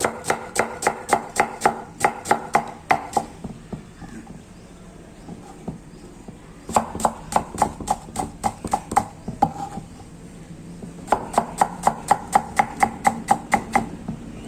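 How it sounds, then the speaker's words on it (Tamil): Rapid bursts of knife chopping on a cutting board as potato slices are julienned for crispy mixed-vegetable pakoda, quick even taps in three runs separated by short pauses, close and clear with no talking. "இதையும் ஜூலியன் கட் பண்ணிக்கலாம் ஸ்லைஸ் ஸ்லைஸாக அடிச்சுட்டு இப்போ ஸ்லைஸ் எடுத்ததை ஜூலியன் கட் பண்ணிக்கலாம்"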